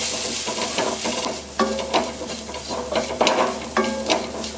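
Masala being stirred and fried in a pan for a Kerala-style tender jackfruit curry, with a steady sizzle and repeated scraping strokes of a spoon at an uneven rhythm, close and moderately loud.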